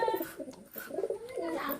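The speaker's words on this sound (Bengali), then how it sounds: "দেখেন সকাল সকাল পায়রাগুলিকে খাবার দিয়েছি, কি সুন্দর খাবার খাচ্ছে" Pigeons being fed in the morning coo softly and repeatedly, a low throaty burbling that rises and falls close by, with faint background sounds.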